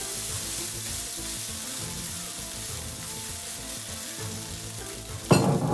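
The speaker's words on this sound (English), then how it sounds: "I'm just going to stir fry my rice" Rice stir-frying in a pan for pili pili rice, a continuous loud sizzle throughout, with a sharper scraping burst of stirring at the very end.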